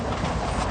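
Train rolling along rails, a steady, dense rumble with faint rhythmic rattle filling the short stretch, no voices.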